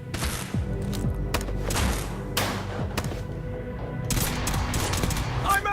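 A 12-gauge shotgun fires in a video game battle: loud, punchy blasts repeat every second or so, mixed with other gunfire and thuds in a busy firefight.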